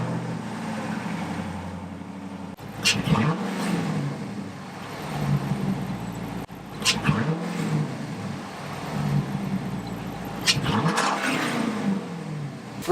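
Hemi V8 engine revs three times from a steady idle, each rise swelling loud and close then settling back, heard before a cold air intake is fitted.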